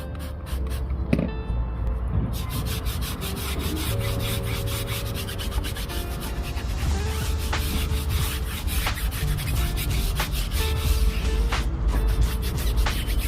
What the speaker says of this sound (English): So let's actually scrub this wheel, this tyre, and let's see what sort of dirt we get out of it.